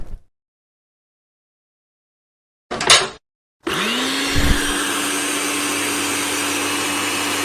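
A kitchen blender kicks on after a short silence: a brief burst, a pause, then a loud, steady motor whir that spins up and holds to the end.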